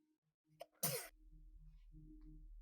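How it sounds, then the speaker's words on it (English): A single sudden, forceful sneeze bursts out close and loud against a quiet background, with faint low murmuring before and after. "I forgot to mute while sneezing."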